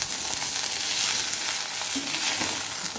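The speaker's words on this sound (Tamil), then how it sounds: "புதினா நல்லா வதங்கிடுச்சு" Mint leaves sauté in a pan, giving a soft, even sizzle with faint scraping of stirring throughout and no voices.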